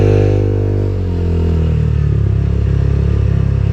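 A Honda Click 160 scooter fitted with an HIRC clutch and pulley set revs up from idle, its engine rising into a loud, throbbing, rapidly pulsing drone close by.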